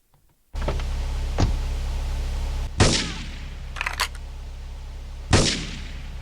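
Two sharp, loud rifle shots ring out in Grand Theft Auto 3, each with a short echoing tail, spaced a couple of seconds apart over a steady low engine-like hum.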